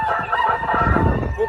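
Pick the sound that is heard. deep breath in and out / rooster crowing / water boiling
rooster crowing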